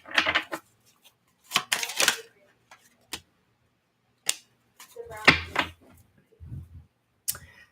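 Tarot cards being shuffled by hand in quick, close riffling bursts separated by quiet pauses, with a few short spoken remarks between them.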